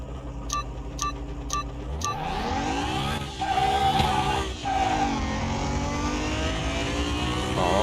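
Corvette C8 with a turbo in a car-mechanic simulator game, launching from a stop: loud engine roar climbing steadily through the gears, with brief dips at shifts, close and continuous without talk.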